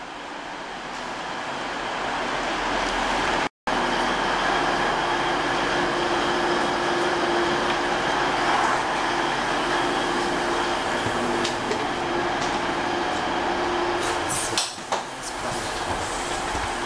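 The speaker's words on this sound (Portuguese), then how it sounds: "Então, agora estou no trem, no sol, muito calor hoje." Steady interior rumble of a regional train moving through Germany, a loud continuous roar with faint rattles and a brief dropout partway through, with no voices.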